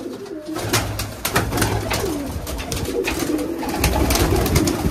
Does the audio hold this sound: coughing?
no